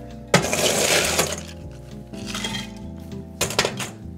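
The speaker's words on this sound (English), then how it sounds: "Just add some ice now." Ice cubes dropped into a bowl of holiday party punch make a loud, close clatter of clinks and cracks, then a second shorter burst of rattling a few seconds later.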